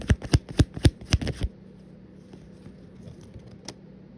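Tarot cards being shuffled: a quick run of sharp, riffling card snaps lasting about a second and a half, close and crisp, then fading into quiet room hum with a faint tap.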